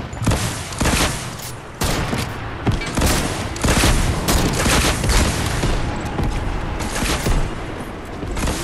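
Gunfire in the video game Fortnite comes as a dense, continuous volley of rapid shots and booming bursts, loud and close throughout.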